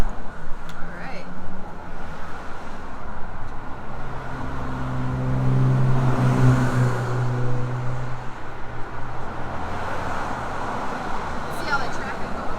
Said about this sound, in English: See all that traffic going by